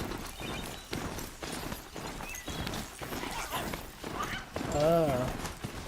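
Horse hooves in the Horizon Zero Dawn game, a quick continuous clip-clop pattern under busy game sound and some talk, ending with a loud, wavering neigh near the end.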